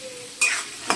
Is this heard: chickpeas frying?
yes